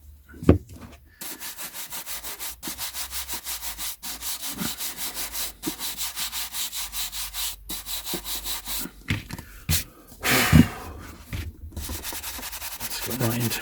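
A vintage Great Pan paper collection item being polished by hand, a rapid rhythmic rubbing scrub repeating steadily and close, with brief pauses and a couple of knocks.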